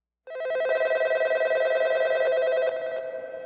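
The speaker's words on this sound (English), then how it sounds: "the Toronto Metro PD's phone lines are ringing off the hook" A telephone bell rings loudly and steadily in a single sustained trill that starts abruptly and runs on without pause, heard alone.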